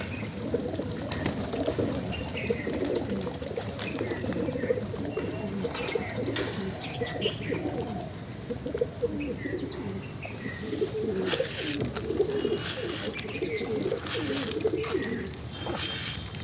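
Pigeons coo in a continuous low murmur close by, joined by scattered chirps and occasional wing flutters. One of the birds is sick, and faint speech sits in the background.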